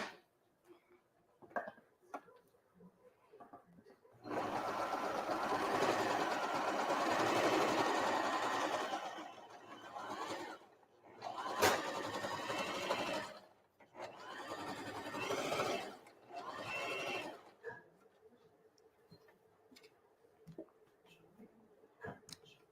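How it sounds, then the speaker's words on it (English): Sewing machine stitching fabric for a heater bag in a kids' sewing class, running in a long steady burst, then several shorter bursts separated by quiet pauses, close and clear. "we're going to keep on sewing"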